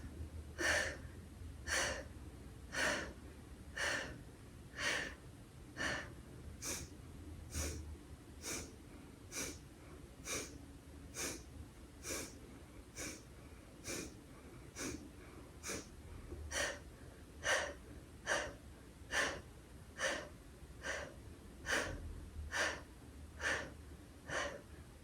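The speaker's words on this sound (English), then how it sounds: "The final part of the floor poses for Bikram yoga is the pumping of the belly and the exhale with the breath of fire." Breath of fire breathing during Bikram yoga floor poses, a long run of sharp, forceful nasal exhales pumping at a steady quick rhythm, close and clear with no speech.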